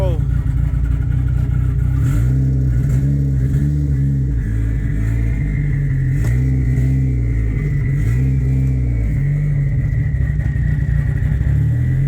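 A Mitsubishi Mirage with an Evo 3 4G63 engine conversion cold-starts after sitting for three months, then settles into a loud, steady idle with a couple of throttle blips, heard from inside the car.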